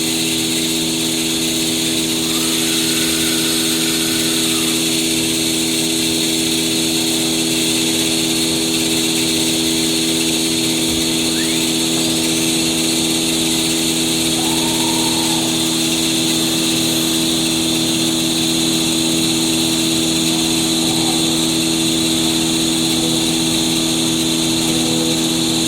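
A CF-DZ1625ATC2 CNC lathe runs a production cycle on spindle two. It makes a loud, steady mechanical drone with constant whining tones and broadband hiss that holds unchanged throughout.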